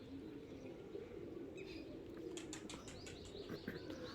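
Pigeons take off and fly upward over a rooftop, leaving a burst of flapping wingbeats in the second half that sounds faint and somewhat distant over a steady low background noise, no voices.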